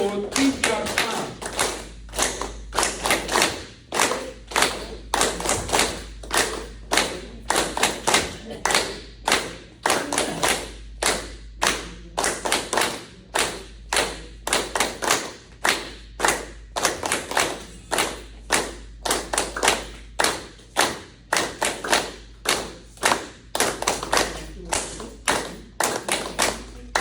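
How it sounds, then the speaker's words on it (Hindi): A group of senior citizens at a dinner event claps in unison, with full-palm claps in a steady rhythm that runs for a long stretch and stays loud and close. "ताली बजाते हैं, इससे भी पूरा ताली बजाने का तरीका होता है।"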